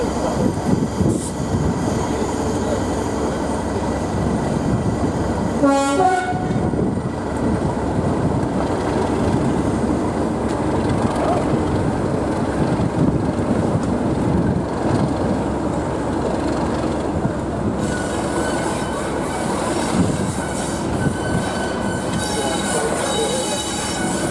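Class 37 diesel locomotive 37714 Cardiff Canton in a depot setting, a loud continuous rumble mixed with rail and wheel noise, one brief squeal, and faint voices in the background.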